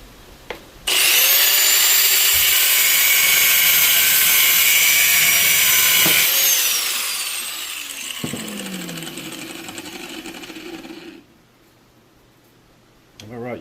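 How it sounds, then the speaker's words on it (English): A side grinder cuts through a scrap electric motor: a loud, steady high whine starts abruptly, holds for several seconds, then drops in pitch and winds down while a person talks, before cutting off into a quieter stretch. "Let's finish it with the side grinder."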